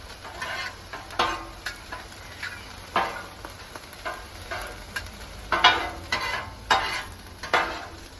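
Prawns fry in garlic butter on a Blackstone griddle, a soft steady sizzle broken by repeated sharp scrapes and taps of a metal spatula stirring them, close by with no talking.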